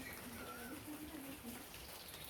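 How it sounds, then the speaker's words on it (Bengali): Morning rain falls as a steady, faint hiss of drops, with a few quiet background sounds under it. "সকালবেলায় বৃষ্টি শুরু হয়ে গেল"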